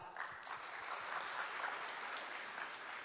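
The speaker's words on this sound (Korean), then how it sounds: "박수로 모시겠습니다" Steady applause from a conference audience welcoming the society president to the stage at the opening ceremony of the Society of Naval Architects of Korea's 2021 autumn conference, sustained and even for about three seconds with no talking.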